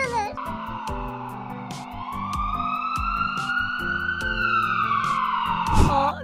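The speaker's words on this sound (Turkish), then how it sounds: "götürüyor ambulansı" Ambulance siren in the Minecraft video game, a loud, steady two-tone wail that rises and falls continuously, with a short burst of louder noise near the end.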